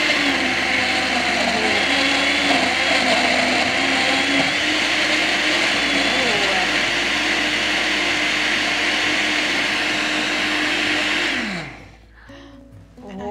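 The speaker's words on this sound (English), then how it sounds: "I could see it blending round and round and round" A blender whirs loudly and continuously while making a fruit smoothie, holding a steady motor drone for several seconds before spinning down and cutting off near the end.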